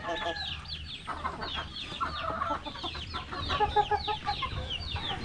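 Hens cluck and chatter close by, with high peeping chicks mixed in, a busy, continuous coop chorus.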